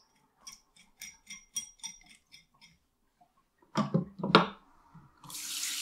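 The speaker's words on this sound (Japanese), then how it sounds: "血合いに切り身を入れて洗い流していきます" Running tap water rinsing a mackerel fillet at a kitchen sink: soft splashes and wet handling, then a louder burst of water and steady flow near the end, with no voices.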